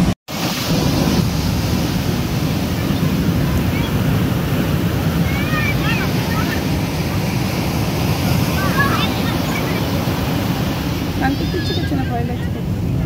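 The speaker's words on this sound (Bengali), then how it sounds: "এত ঢেউ ভয় লাগে।" Strong sea waves break at Puri beach in a steady, loud roar of surf, with heavy wind buffeting the microphone throughout and faint voices drifting in now and then.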